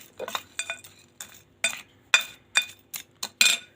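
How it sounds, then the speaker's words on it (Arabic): A metal spoon clinks and scrapes against a bowl while chili powder is stirred with salt, a series of about a dozen sharp, close taps in uneven rhythm. "هقلب الشطه بالملح اهو."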